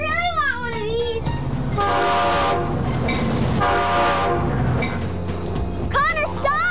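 A toy-like train runs with a continuous rumble while its horn sounds in two long blasts, amid lively animated voices.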